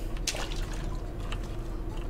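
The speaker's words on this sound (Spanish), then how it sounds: "Sonidos de agua." Water drips and trickles in a horror video game set in a police station. The liquid sounds are faint and soft over a low ambient hum.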